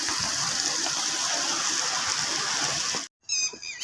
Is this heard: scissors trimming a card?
no